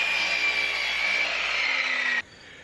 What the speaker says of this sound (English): I'm going to cut this down right here to about, let's see, I'd be safe with 3 inches